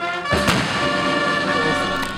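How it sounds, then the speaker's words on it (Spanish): A single deep cannon salute boom goes off at a funeral, followed by a long rolling echo and sustained tonal ringing in the background. "Cañonazos."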